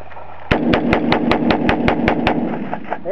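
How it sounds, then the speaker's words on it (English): An AR-15 rifle fires a rapid, evenly spaced string of about ten loud, sharp gunshots at close range, then falls quiet. "Zoomed in so you can see the firing."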